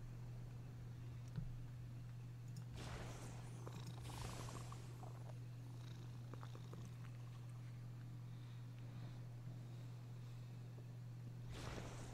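Soft, steady purring from a cat being petted in Magic: The Gathering Arena, a low continuous rumble running the whole time under faint bursts of background game noise.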